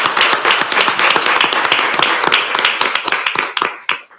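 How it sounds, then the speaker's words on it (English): Audience applause at a city council meeting after the Pledge of Allegiance, dense steady clapping from a room of people that tapers off near the end. "Can I have a round of applause, please?"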